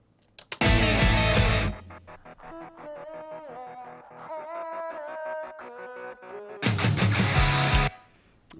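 Electric guitar with a stutter effect within a mix, notes chopped into rapid rhythmic pulses, framed by heavy full-band bursts at the start and end, loud and close.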